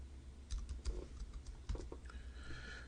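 Keys tapped on a computer keyboard during a web search, a few scattered clicks in short bursts, faint and close against a low background hum.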